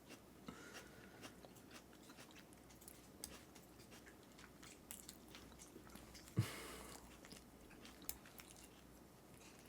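Close, quiet chewing of a crunchy root vegetable such as beets, with soft irregular bites and crunches under a faint steady background, and one sharper crunch partway through.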